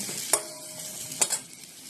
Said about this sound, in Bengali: এভাবে সব ডালগুলো দিয়ে বড়া ভেজে দেবো